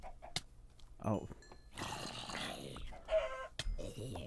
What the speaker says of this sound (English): Here, I'll take care of that poor chicken.